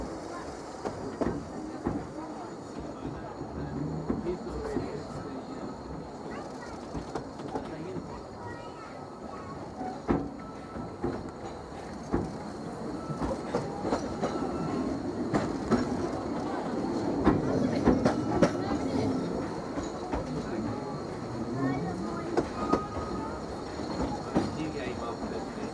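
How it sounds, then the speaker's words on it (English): A Vale of Rheidol Railway narrow-gauge train near Aberystwyth, Wales, runs steadily, with continuous close rumble and rhythmic clickety-clack of wheels over rail joints, plus scattered clanks and squeals throughout. "this is where the two trains pass, the up and the down"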